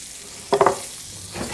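Turkey tender mixture sizzling in a hot pan while being stirred, a steady low fry with a brief burst of scraping and clatter from the utensil, no voices.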